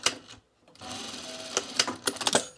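Domestic sewing machine stitching pajama fabric, running in short close bursts with brief pauses and a gap near the start, steady mechanical whir with sharper clicks between runs, no talking.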